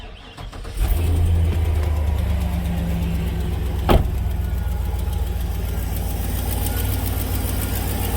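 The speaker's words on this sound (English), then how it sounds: "You hear the exhaust leak." A Chevrolet Silverado 6.0 engine starts and settles into a steady idle with an exhaust leak, a low rumbling drone with rapid ticking pulses and one brief sharp knock midway.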